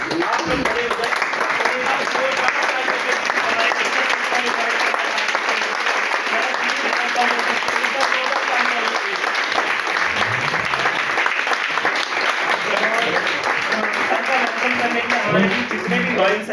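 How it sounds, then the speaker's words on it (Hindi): A large indoor audience rises for a standing ovation, loud continuous applause sustained for the whole stretch with crowd voices mixed in. "तो एक बार ऐसी पर्सनैलिटी के लिए खड़े होके जोरदार तालियां होनी चाहिए।"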